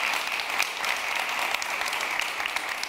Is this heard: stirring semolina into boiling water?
no